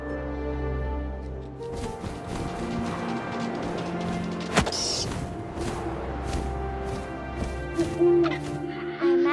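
Low owl hooting calls in the video game What Remains of Edith Finch over a droning ambient background, with a sharp crash midway and faint echoing tones.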